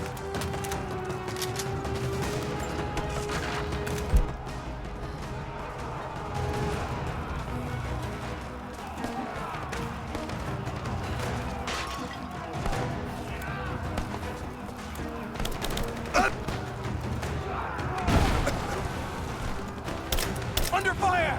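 Gunfire rattles through a firefight in Rise of the Tomb Raider, with bursts and single shots crackling over continuous combat noise and crashes while voices shout throughout.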